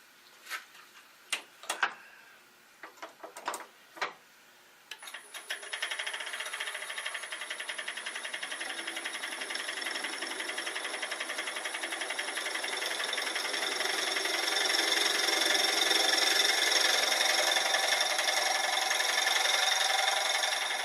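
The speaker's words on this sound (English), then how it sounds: "Using a little center drill." A few sharp ticks and knocks, then a steady high whirring grind of a small center drill running continuously while turning a lid, growing slightly louder toward the end.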